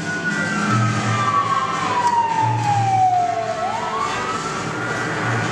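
A fire engine siren wails in a long falling sweep that then turns upward again, loud and steady over a low engine rumble.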